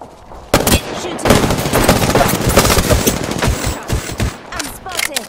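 Apex Legends gunfire in a rapid automatic burst that runs for several seconds, loud and close, broken by a few sharp single shots.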